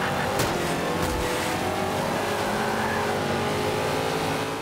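A maxed-out Hummer roars through a race in Forza Motorsport 5, its engine droning loud and steady with revving swells and brief tire noise, no voices over it.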